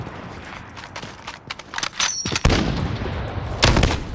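Rapid bursts of gunfire from an opponent's weapon in a one-on-one video game match, with several sharp volleys crackling in quick succession and growing louder toward the end, with no talking.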